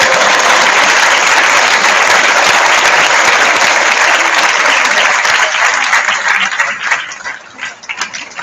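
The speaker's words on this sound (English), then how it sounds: "Give him a clap" School graduation audience applauds a nine-year-old boy called to the stage, dense loud clapping from a large crowd that holds steady and then thins into scattered claps as it fades out.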